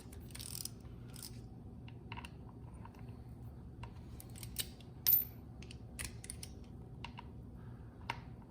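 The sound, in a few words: torque wrench set at 90 inch-pounds, Harley primary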